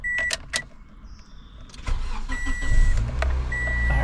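A Toyota Corolla S with a manual clutch is cranked and fires up, a few clicks and a whir giving way to a rising, steady engine rumble close by.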